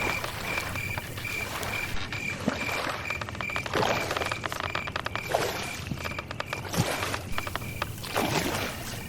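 A boatman rows a wooden rowboat across a river, the oars dipping in steady, gentle splashes and gurgles of water beneath a faint continuous tone, with no voices.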